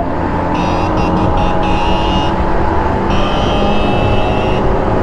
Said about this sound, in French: Je fais monter au rupteur